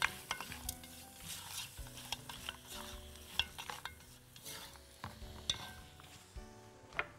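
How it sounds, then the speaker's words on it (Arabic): Thinly sliced onions stirred in a pot of hot oil for a Gulf-style maqluba, a soft sizzle under repeated scraping and knocking of a spoon against the pot, close and fairly quiet with no voices. "بصل متقطع شرايح رفيعة خالص وني مش متحمر يعني، أهو. وأقلب كويس جدا"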